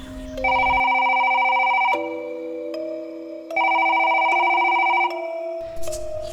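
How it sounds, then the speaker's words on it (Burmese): A telephone rings in an audio drama, two bursts of bright electronic trilling separated by a pause, loud and close with no voices over it. "ရုတ်တရက်ဖုန်းလာတာကြောင့်"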